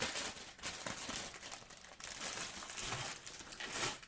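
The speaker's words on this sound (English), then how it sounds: "Yeah, sorry for the crinkling." Plastic packaging crinkles and rustles close by in faint, irregular bursts, continuous crackling handled for about four seconds with no talk over it.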